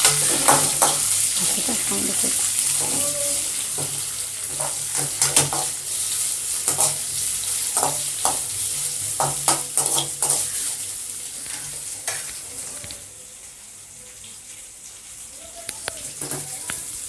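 Onions and curry leaves frying in a pan in a village kitchen as they are stirred, giving a continuous close sizzle broken by repeated scrapes and clatters of the spoon, easing off slightly toward the end.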